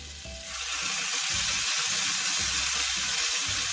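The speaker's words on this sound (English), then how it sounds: "I've just added some butter, and now what I'm going to do is I'm just going to add a bit of my bhaji" Pav bhaji vegetables fry in butter in a pan, a loud, steady close sizzle that swells in after a brief moment and holds throughout, with faint stirring scrapes underneath.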